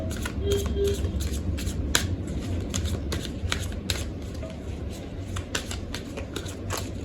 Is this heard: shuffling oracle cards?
yes